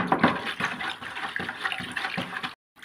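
Caustic soda solution stirred with a stick in a plastic bucket, a steady liquid swishing and sloshing with regular strokes, fairly close, ending in a brief silence.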